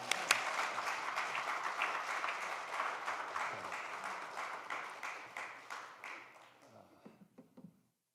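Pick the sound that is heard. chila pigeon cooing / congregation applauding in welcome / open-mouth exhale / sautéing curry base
congregation applauding in welcome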